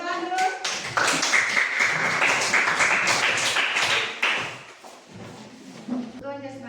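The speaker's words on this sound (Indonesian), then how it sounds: "Tepuk tangan dulu." A classroom of students applauding, a dense burst of many hands clapping that swells for a few seconds and then fades, with voices speaking just before and after.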